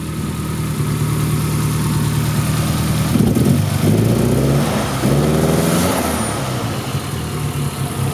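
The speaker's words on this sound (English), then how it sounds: "Let this thing run and idle for a little bit." A car engine runs at a steady idle, close and loud, with a brief rise in revs in the middle before it settles back to a low, even idle.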